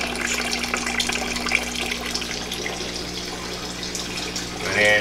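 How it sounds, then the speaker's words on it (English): Tap water runs steadily into a 5-gallon bucket being filled for an aquarium water change, a constant hissing splash at moderate level, swelling slightly louder near the end. "let that bucket fill up"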